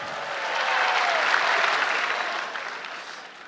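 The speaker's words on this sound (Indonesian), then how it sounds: "Tepuk tangan dong buat Balai Sarbini" Audience applause at Balai Sarbini during a stand-up comedy competition show, a full hall clapping that swells, holds and then slowly fades.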